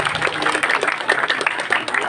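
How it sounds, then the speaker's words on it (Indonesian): Audience applause at a Balinese comedy show: a dense, steady wash of many hands clapping, moderately loud, with crowd noise mixed in throughout. "Mana tepuk tangan udah kurang-kurang kurang-kurang."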